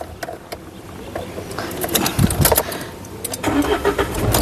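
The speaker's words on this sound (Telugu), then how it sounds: "సింగిల్ సెల్ఫ్లో కార్ స్టార్ట్ అవుతుంది" A 2017 Mahindra Scorpio S4 Plus SUV cranks and catches on the first try, with a short starter whirr followed by the engine firing up and settling, heard close.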